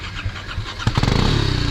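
An off-road motorcycle engine on a soft sandy trail climbs from a low idle into a sudden loud rev, holding a rough, pulsing throttle close by.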